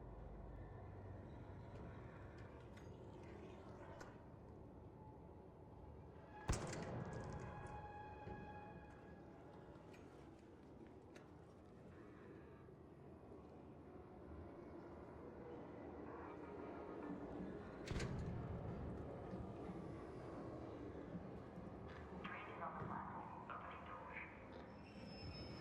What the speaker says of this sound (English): The train's here, boys!